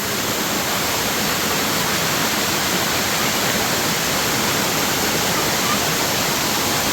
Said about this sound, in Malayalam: ഇതാണ് വെള്ളച്ചാട്ടം